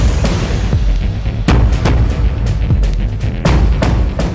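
An SAS patrol fires on the enemy in loud, close bursts of gunfire with sharp repeated booming shots and echoing tails, with no speech over it.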